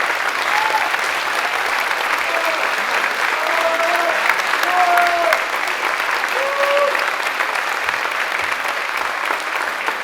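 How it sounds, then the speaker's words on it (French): Show audience giving loud, sustained applause, a thick continuous roar of clapping with scattered voices and brief cheers rising above it for the full duration. "vous pouvez l'applaudir très fort"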